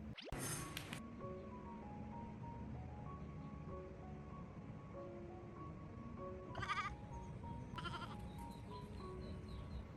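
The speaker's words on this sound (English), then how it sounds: "From the garden, the desperate ba-ba of a hungry baby goat echoed." Hungry baby goat tied up in a garden bleating in a few short, strained cries spaced apart, moderately near against a quiet outdoor background.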